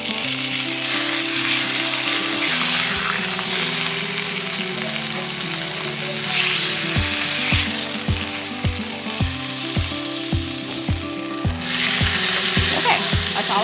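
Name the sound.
bear meat browning and sizzling in a pan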